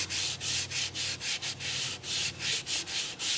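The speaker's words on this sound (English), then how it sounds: "So you can hear the grit working and working and working." Steady rhythmic rubbing of grit against a turned alder bowl, a close hissing scrape repeating back and forth about three times a second, with a low hum beneath.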